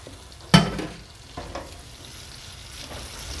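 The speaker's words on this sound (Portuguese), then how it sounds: "Aqui a manteiga já derreteu, eu vou colocar então o meu 1/4 de cebola picada e vou deixar refogar." Chopped onion dropped into melted butter in a pan, bursting into a sharp sizzle that settles into a steady, close frying crackle with a couple of stirring scrapes, no voices.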